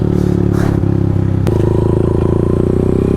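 A 212cc engine on a custom CT-70 trike runs loud and close while being ridden, a steady buzzing drone with a brief clatter partway through.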